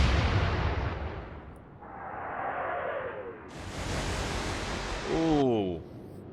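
Warship naval guns firing in the Atlantic Fleet naval game, a loud opening blast followed by rushing whooshes of shells in flight and a final swelling burst, with a voice talking over parts of it.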